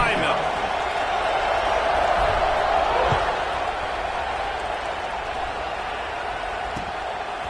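A college football stadium crowd roars at kickoff, a broad continuous rumble that swells early and then settles into a steady wash, with a commentator talking over it.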